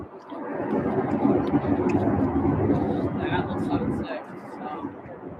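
An Embraer ERJ 135 jet at UPS Worldport airport makes a steady broadband jet roar, moderately loud and distant, with a person talking over it.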